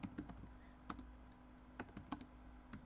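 A command being typed on a computer keyboard, heard as scattered close keystrokes in short bursts with pauses between them, quiet and alone.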